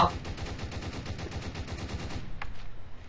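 Rapid automatic gunfire in the Roblox game Prison Life, a steady rattling burst of repeated shots running for over two seconds before cutting off, with a brief sharp noise near the end.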